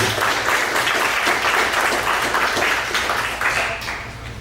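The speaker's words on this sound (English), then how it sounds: "So let's give one more round of applause for Chefsheet." Audience applause at a 1 Million Cups Dallas startup pitch event for the presenting company, a dense continuous roar of many hands clapping close by, steady throughout and tapering slightly at the end.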